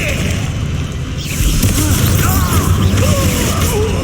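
Confringo blast spell cast in combat in Hogwarts Legacy: a muffled boom lands early, then a sustained rumbling, crackling wash of game effects follows with no spoken words.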